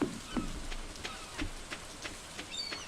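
Steady rain falls in the farming video game Stardew Valley, a soft continuous patter with scattered light droplet taps, fairly faint and with no talk over it.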